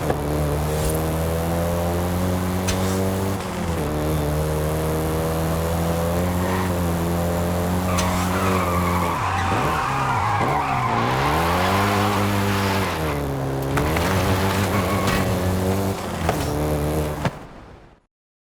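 A VW Golf GTI drives hard in the Forza Horizon 5 racing game, its engine droning and rising through gears while tyres skid and squeal midway, loud and continuous, with no talking.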